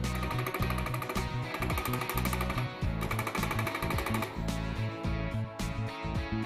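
A Multi4 handheld dot peen marking machine hammers a mark into a part with a rapid, loud mechanical rattling that stops and starts in short bursts, its stylus pecking at a fast, even rate.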